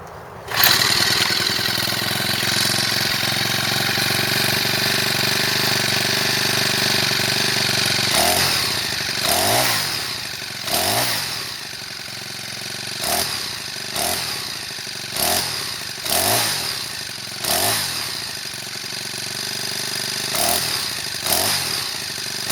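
A Craftsman 26cc rototiller engine sputters to life and runs with a steady, loud putter, then revs unevenly in repeated surges and dips toward the end.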